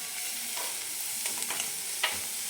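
Cabbage roasting in a pan for chutney, a soft continuous sizzle with occasional scraping strokes of stirring.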